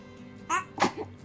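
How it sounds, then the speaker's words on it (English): A baby makes a small vocal sound, then gives two quick, close sneezes in a row. "She sneezes in threes and twos."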